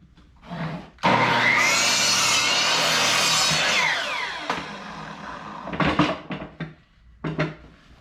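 A power saw cuts through wooden fence boards to make 16-inch pieces for a DIY planter, one loud close whining cut lasting about three seconds, then short bursts of wood knocks and rubbing, with no one speaking.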